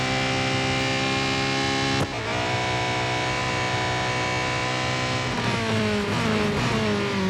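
A Porsche 919 Hybrid Evo engine at full throttle in the racing game Real Racing 3, a loud, steady, harmonic drone that holds high and shifts pitch around two seconds and again near five seconds, with no talk.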